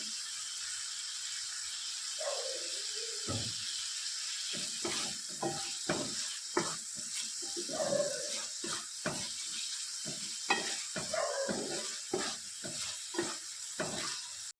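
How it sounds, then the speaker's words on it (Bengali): Tomato being sautéed with spices in a pan on the stove, a steady sizzling hiss with repeated stirring scrapes and clacks throughout for a moong dal dish with rohu fish heads. "টমেটোটাকে মশলার সঙ্গে ভালো করে কষে নেব যতক্ষণ না টমেটো কাঁচা গন্ধ চলে যায়"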